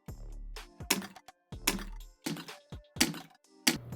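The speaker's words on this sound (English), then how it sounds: "Hey, that's a snare." Snare drum sample made from household items, struck in a sharp, punchy series of cracks with short tonal tails, about seven hits in an uneven rhythm, close and dry.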